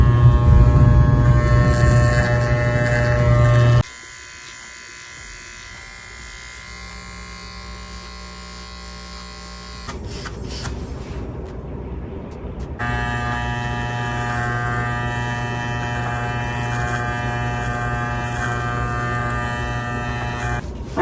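Electric hair clippers buzz steadily while tapering and cleaning up the neckline on a short haircut, a close, loud hum that drops quieter for a stretch before coming back strong.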